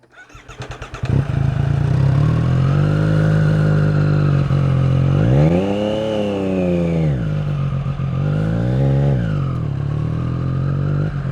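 A motorcycle with a drink held in a cup holder, its engine starting and then running in a steady close rumble, with two rising and falling revs as it rides.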